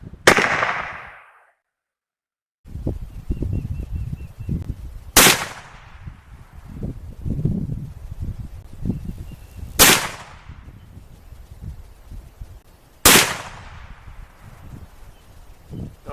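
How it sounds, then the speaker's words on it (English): CVA Hunter single-shot rifle in .44 Magnum with 240-grain loads, fired at a 50-yard range outdoors: four sharp, loud cracks spaced several seconds apart, each trailing off with a short echo over rustling and handling noise. "Good rifle, like the caliber. 44 mag, 240 grain. Shooting out at 50 yards."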